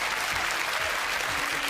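Studio audience applause on a televised IQ-test quiz show, steady and dense clapping throughout a brief stretch with no breaks.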